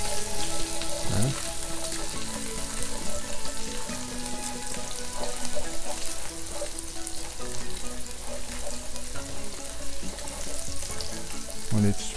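Garlic fries in a pan for beef and broccoli with a steady, dense sizzle and crackle, close and even throughout, broken now and then by a stir or a light knock against the pan.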